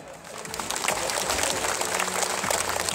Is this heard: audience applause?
yes